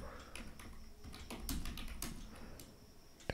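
Soft, rapid keystrokes patter across a computer keyboard as a command is entered, close and fairly quiet over a low background hum, ending with one sharper key press.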